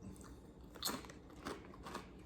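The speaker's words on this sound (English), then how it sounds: "Crunchy like a kettle chip. Okay, so while he is chewing away" Close, quiet crunching as someone bites into and chews kettle-cooked potato chips, with a few sharp cracking bites followed by softer mastication and no voices.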